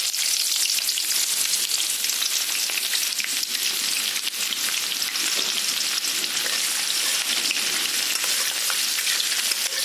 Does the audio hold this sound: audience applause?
no